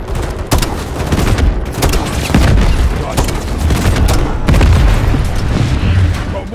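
Loud, dense gunfire and booming explosions rattle through a frozen tundra battle in a realistic military video game, sustained rapid shots overlapping with heavy blasts throughout, with voices partly buried beneath the combat.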